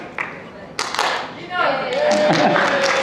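Hands clap a few sharp, separate claps near the start, the way it was done on the record, and a voice then takes over and talks loudly over the last half.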